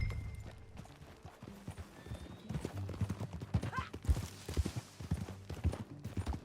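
Horse hooves clip-clop steadily in Red Dead Redemption 2, a rhythmic, fairly close trot of hoofbeats on the ground over a low rumbling background, with faint voices now and then.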